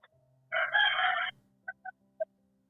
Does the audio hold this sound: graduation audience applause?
no